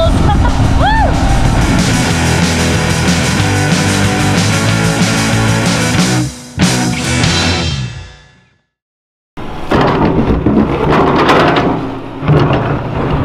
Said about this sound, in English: what you're hearing is the excavator bucket scratching against the bedrock